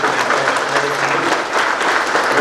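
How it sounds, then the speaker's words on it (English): Dense, steady applause from a crowd at a smart factory groundbreaking ceremony, many hands clapping together loudly and evenly throughout with no voices on top. "I think that deserves a huge round of applause"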